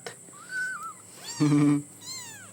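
Baby kittens with blue eyes mew indoors, three short high-pitched cries with quiet gaps between them, close and fairly soft.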